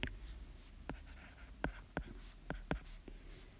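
Pen or marker strokes writing out a math solution, a handful of quick scratchy taps and short strokes spaced irregularly across a quiet room, close and clear with no talking.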